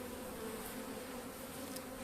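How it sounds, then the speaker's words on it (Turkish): Honey bees stream out of a hive through a queen excluder, a dense, steady buzzing swarm heard close and alone with no talk. "Bakın arılar başladı oradan çıkmaya."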